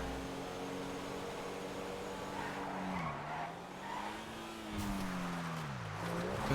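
In GTA V, a car brakes and skids with long wavering tire squeals over a low engine drone, fairly faint and with no voices.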